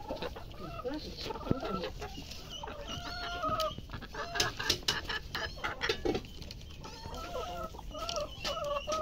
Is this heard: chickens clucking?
yes